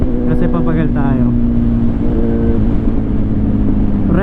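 A Kawasaki Z900 motorcycle engine drones loudly and steadily as it downshifts on an exit ramp, its pitch stepping and sliding while a rider talks over the engine and wind noise.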